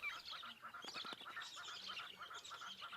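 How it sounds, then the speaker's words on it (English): Small birds feed near resting lions in the wild, their busy chattering and squawking calls running continuously at a faint, distant level. "It's a little bird feeding party."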